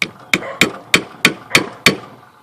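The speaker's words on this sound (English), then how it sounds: "you can take your peg, drive it into the hole." Six sharp hammer strikes driving a wooden peg into a drilled hole in a birdhouse, at a steady rhythm, close and loud, each blow ringing briefly before the next.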